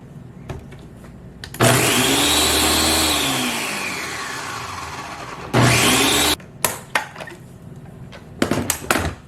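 A Ninja BN701 Professional Plus blender crushing ice in two loud bursts, its motor whining up then winding down, followed by clattering knocks of ice shifting in the jar.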